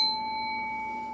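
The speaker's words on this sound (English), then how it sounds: "Spirit said, ring the bell." A single bell struck once, its clear ringing tone sustaining and slowly fading over about a second, heard alone without any talking.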